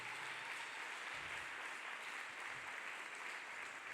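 A church congregation claps hands for Jesus Christ, a faint, even wash of clapping that continues steadily with no break.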